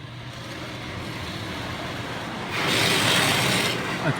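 At an automatic car wash in North Bay, Ontario, machinery rumbles around a car under a steady wash of noise. A louder rush of spraying water swells in partway through and holds to the end.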